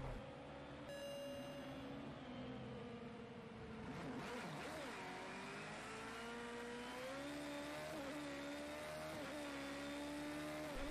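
A race car engine drones steadily through a lap in the Project Cars 2 video game, a continuous loud whine that rises and dips in pitch with gear changes and throttle, heard alone without talk.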